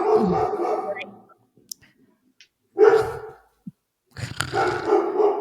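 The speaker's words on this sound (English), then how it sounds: "let me just go see what he's barking at" A dog barks indoors in three separate bursts of loud, rough barking, with short quiet gaps between them.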